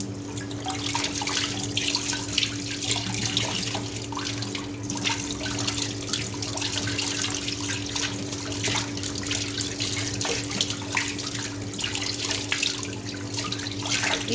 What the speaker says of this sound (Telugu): నీట్గా కడుక్కోవాలి.